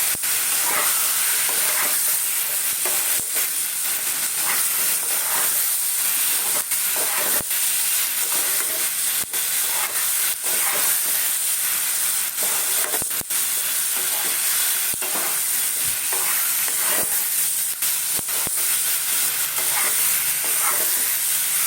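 Fried potato pieces added to a pan for an egg curry, sizzling loudly and continuously close up, with sharp scrapes and clicks of stirring throughout.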